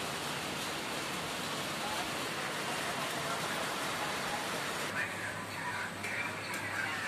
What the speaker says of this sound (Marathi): लय पाऊस चालू आहे मस्त दणदणीत